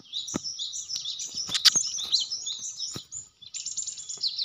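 Gelatik birds at a bird-trapping site give a dense run of high, rapid chirps and tweets, near and clear, with a few sharp clicks and no talking.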